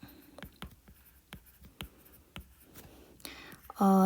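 Someone writes English nouns by hand during a grammar lesson, giving a run of short, sharp scratching strokes with small pauses, fairly close, with a brief spoken sound at the very end.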